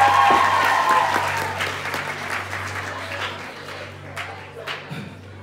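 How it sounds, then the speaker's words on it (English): Conference audience applauding, a dense sustained burst of clapping that tapers gradually into scattered claps, with a low steady hum from the room beneath. "Come on, give them one more round of applause."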